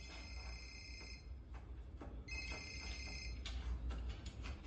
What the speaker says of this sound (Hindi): अब नरदीन फोन कर रहा है।